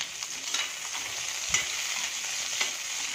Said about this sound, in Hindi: अब हम इसमें ये ड्रमस्टिक फ्राई करेंगे सहजन।